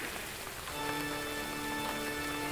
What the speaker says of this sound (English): So it's another really big rainstorm.